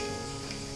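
Cumin seeds sizzle briefly in hot oil for Nagpuri tarri poha, a short, steady frying hiss with music playing underneath.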